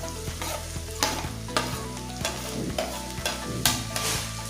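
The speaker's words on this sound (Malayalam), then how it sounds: "ഇതെല്ലാം കൂടി നന്നായിട്ടൊന്ന് വഴറ്റിയെടുക്കാം." Sliced onions, shallots, green chillies and ginger sautéing in a pan for chicken curry, with a close, steady sizzle punctuated by repeated sharp scrapes of a spoon stirring, no talk.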